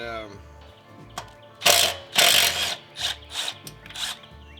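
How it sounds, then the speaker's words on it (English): Hand tools work on the chain cover of a Coleman BT200X mini bike, with several short bursts of ratcheting and metallic scraping close by, separated by brief pauses and faint background noise. "First thing I'm going to have to do is remove this chain cover."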